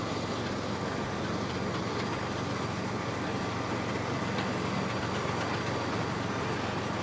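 A battery-powered Cobra Fortis 14E verticutter running on an EGO battery drones steadily on a lawn, a constant broadband whir with no breaks and no voices.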